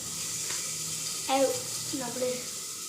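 Eggplant fries in a pan with a steady, moderate hiss and sizzle throughout, while a couple of brief voice sounds come in over it.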